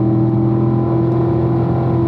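A race car on a track pulls hard in fifth gear, its engine a loud, close, unbroken drone holding a steady pitch for the whole moment.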